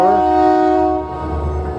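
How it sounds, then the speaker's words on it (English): A BNSF freight train's horn blares loud and close with a sustained chord along Route 66 in Kansas, then fades into the low rumble of rolling railcars. "You got the BNSF coming through. Beautiful train."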